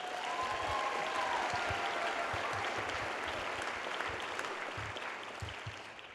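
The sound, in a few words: audience applause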